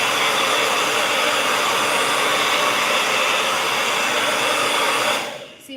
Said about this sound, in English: this is gonna be loud, so I do apologize because this dryer,